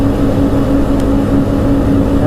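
A big heavy utility ATV engine drones near and constant at top speed, roughly 55 miles an hour, with a steady low hum and no revving changes.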